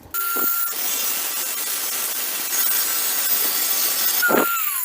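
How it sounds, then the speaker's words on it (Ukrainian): Angle grinder fitted with a thin cutting disc slicing through aluminium, a steady harsh grinding hiss running several seconds between brief spin-up whines at start and end, fairly close. "Ставлю спочатку тонкий диск для алюмінію. Попробуємо ним різати."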